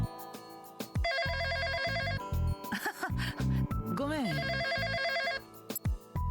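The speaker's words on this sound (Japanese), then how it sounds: "Let's call the office phone." An office phone in the video game Emio – The Smiling Man gives two long electronic ringtone bursts, close and clear. A short spoken line and some low vocal murmurs come between and after the rings.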